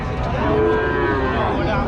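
Cows and heifers at the rainy Friday cattle market in Choubaria low in a deep, drawn-out moo that fills the air, with a thick wash of crowd noise and chatter underneath.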